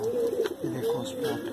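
A Mangalagiri pigeon with diamond spots coos up close, giving a soft, rolling low coo that rises and falls twice over a brief moment.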